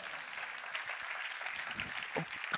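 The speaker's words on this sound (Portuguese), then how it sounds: "Pode aplaudir igual meu irmão nessa noite" A church audience applauds in a brief, even burst of clapping that sounds soft and somewhat distant.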